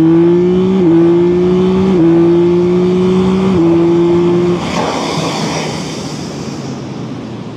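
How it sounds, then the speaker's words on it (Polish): Engine of a Yamaha MT-09 SP naked sport motorcycle on its factory exhaust revving as the throttle opens, a loud steady buzzing drone that steps up in pitch in a few jumps, then gives way to a fading rushing roar. "jest słyszany ten dźwięk, jak on się wkręca na obroty,"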